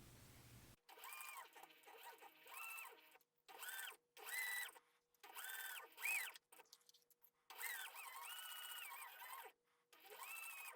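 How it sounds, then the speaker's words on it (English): A sewing machine stitches a fabric strip along the top of a tote panel in several close, steady whirring bursts separated by short pauses. "I'm going to sew this strip right along the top of the panel"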